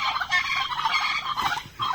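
Fighting turkeys gobble in a dense, rapid, warbling chorus, close and loud, continuous for a couple of seconds.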